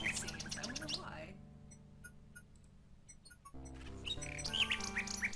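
Bright bird chirps and tweets from the King's Quest 6 adventure game, in short clusters at the start and again at the end, with steady game music running beneath and a quieter musical stretch between.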